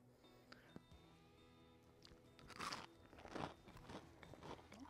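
Crunchy deep-fried hush puppies bitten and chewed up close, a few sharp crisp crunches followed by quieter crackling chews, fairly faint and with no talking.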